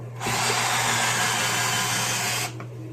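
A power drill drives a screw into a wall stud while a floating shelf is mounted, one continuous loud whirring burst of about two seconds, heard up close with no talk.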